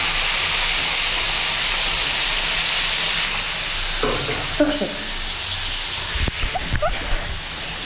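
Food frying in hot cooking oil makes a loud, steady broadband sizzle and hiss, joined later by scattered pops and stirring clatter as the crackle grows more uneven.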